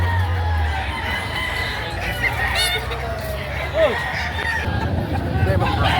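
A nine-month-old stag rooster crows at a busy livestock market, several crows rising over the clucking of other fowl and a background murmur of people talking.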